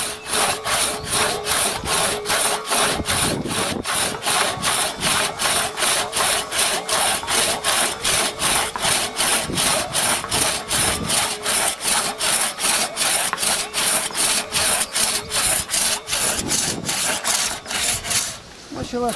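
Hand saw cutting American maple wood in steady back-and-forth strokes, a continuous rasping rhythm of about two strokes per second, close and loud, stopping near the end.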